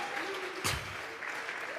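In a church, a congregation claps together in a brief burst of applause mixed with voices, heard from a distance in a reverberant hall.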